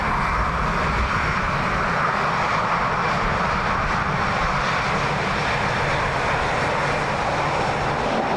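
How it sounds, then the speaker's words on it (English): Loganair Embraer ERJ jet airliner arriving from Aberdeen and landing on runway 28 left at Dublin Airport, a steady, broad engine roar held loud and constant throughout, with no talk. "Logan Air ERJ in from Aberdeen."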